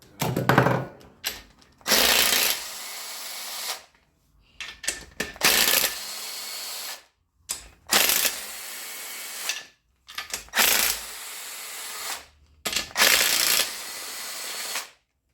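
Power ratchet whirring off the oil pan sub-assembly bolts on a Toyota Venza 2.7L, in six or so bursts of two to three seconds each, separated by short pauses, close and loud, with no talking.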